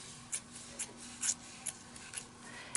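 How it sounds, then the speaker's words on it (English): Scissors cut a fabric strip in half, a series of about seven crisp, quiet snips spaced roughly half a second apart against a faint background hum. "just take your scissors and cut it in half like this."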